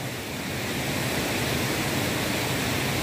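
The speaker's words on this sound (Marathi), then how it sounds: "व्याघ्रेश्वर वॉटरफॉल, व्याघ्रेश्वर धबधबो आपण जवळ गेलाव पण नाही" Vyaghreshwar waterfall at Manche, Devgad in Sindhudurg roars as a steady, dense broadband rush close by, its spray thrown through the air, with no voices over the unbroken torrent.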